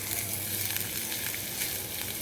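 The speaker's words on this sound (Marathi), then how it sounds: "जिरं मोहरी छान तडतडल्याशिवाय त्याला टेस्ट लागत नाही." Cumin and mustard seeds with onion sizzle and pop in hot oil: a dense, even crackle close up, with no voices.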